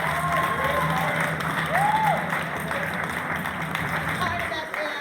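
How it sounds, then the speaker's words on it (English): Audience at a community human rights breakfast applauding, a sustained round of clapping from a crowd that carries through the whole stretch at steady volume, with a faint whistle or whoop near the middle. "So let's give him another round of applause."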